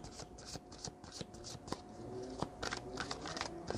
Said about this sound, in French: j'avais déjà mélangé les cartes.